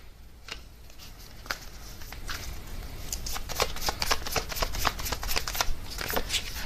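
Tarot cards are shuffled by hand, a close papery riffle and flutter with soft slaps that grows busier and denser toward the end.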